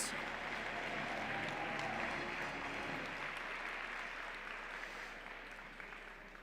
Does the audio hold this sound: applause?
yes